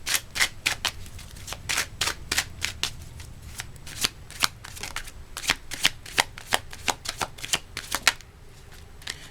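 Tarot cards being shuffled by hand, a rapid run of crisp riffling snaps and flicks in quick uneven bursts, close and clear with no talking.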